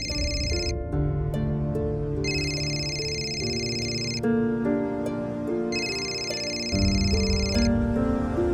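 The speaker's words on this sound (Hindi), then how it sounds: "फोन बज रहा है, किसका फोन है?" A telephone rings indoors in a household scene of a Hindi TV drama. Two long bursts of repeated electronic ringing sit over steady background music, and there is no talking.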